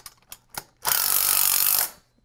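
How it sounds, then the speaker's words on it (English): Bolts being tightened on an auto body part cart with a power tool: a few short clicks, then a close, loud, steady whirring burst lasting about a second before stopping. "Now I'm going to go and start tightening all my bolts at this point."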